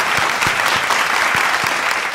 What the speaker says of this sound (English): One more round of applause for these 16 finalists.